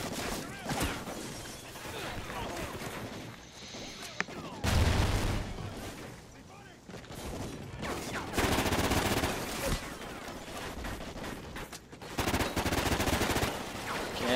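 Heavy gunfire in the Call of Duty Ghosts video game, with dense, sustained automatic bursts and loud cracks, brief pauses between volleys, and occasional crashes and blasts mixed in.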